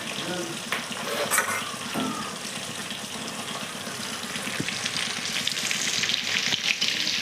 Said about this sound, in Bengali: আর আমি মাছ রান্না করছি